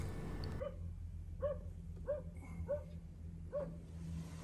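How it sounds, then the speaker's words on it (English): A dog barks in the morning in a steady series of about six barks, faint and distant over a low background hum, beside a road near lakes. "We woke up in the morning as the dogs bark."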